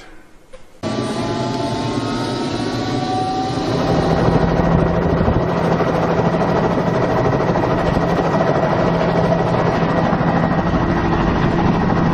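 A helicopter's steady, loud rotor and engine roar fills the whole stretch, swelling slightly partway through and holding constant, with no voices.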